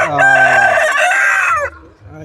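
A rooster at a poultry farm crows loudly and close by, one long drawn-out call that ends abruptly, with faint farmyard sounds after it.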